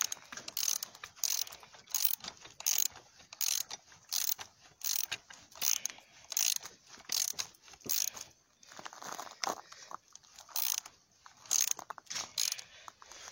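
A spring compressor is tightened onto a BMW E46 330d shock absorber spring with a ratchet, giving repeated rhythmic clicking strokes, close and fairly quiet, in regular bursts with brief pauses.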